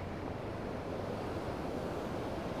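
A waterfall beside a rough mountain road on the Sural Bathori–Killar–Kishtwar route sends out a continuous, even rush of falling water, heard at a moderate distance and fairly faint, with no voices.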